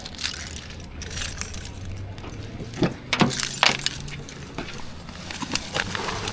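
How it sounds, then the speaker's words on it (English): Car keys jangling as they are pulled out in a parking lot: clustered metallic clinks and rattles, close and moderately loud, over a background of outdoor rumble. "Get my key out here."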